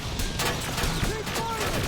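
Gunfire in the video game Terminator Resistance, a dense run of rapid shots crackling through a busy firefight, loud and close, with faint voices mixed in.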